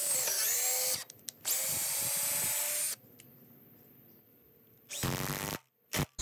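Drill driving 3-inch exterior-rated Spax screws into wood blocking for an exterior ceiling fan box, with close loud whirring bursts separated by quiet gaps and a couple of shorter final spins.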